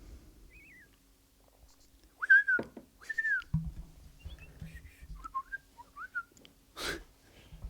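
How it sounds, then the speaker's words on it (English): Birds sing in the background with scattered short whistled chirps and calls. Soft low knocks and rustles come from closer by. "The birds. You can hear the birds in the background, can't you?"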